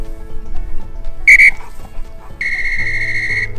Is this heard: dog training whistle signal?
yes